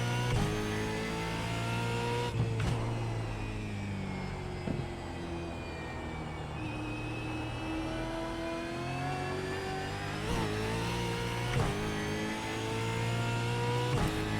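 Australian Supercars race car in iRacing at Brands Hatch, its engine droning and revving steadily with rising and falling pitch through gear changes, close and continuous.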